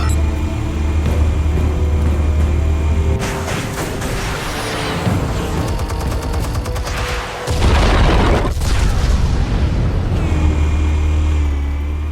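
Heavy explosive detonations in a Batman video game scene, deep broadband booms rumbling over a sustained low drone, with a sharp blast near the middle followed by another dense, loud burst of crackling debris.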